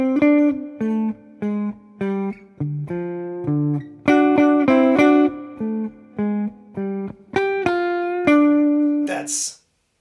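A clean electric guitar plays a bluesy riff of short plucked notes with small string bends, pausing between phrases before a final sustained note.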